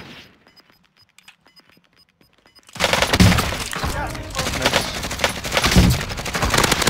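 Enemy gunfire in an online trios battle-royale match, with dense, loud bursts of rapid shots and impacts starting abruptly after a quiet stretch and continuing to the end, mixed with talk.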